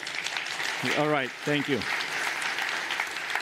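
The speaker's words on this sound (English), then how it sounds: "by rounds of applause, please" Audience applause at a C++ conference opening keynote: a continuous crowd clapping bed runs the whole time while a voice briefly speaks over it near the middle.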